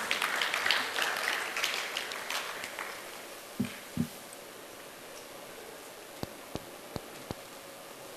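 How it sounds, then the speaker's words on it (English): An audience at a cinema industry expo applauds, the clapping fairly faint and scattered before fading away within a few seconds, followed by a few isolated taps and clicks. "Let's have a huge round of applause for them."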